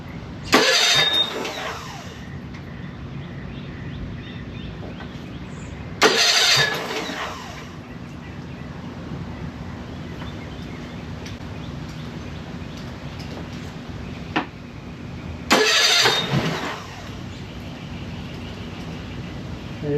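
A Mercury 25hp four-stroke EFI outboard engine cranks and fires three times, each start a loud broadband burst lasting about a second, separated by a low steady hum.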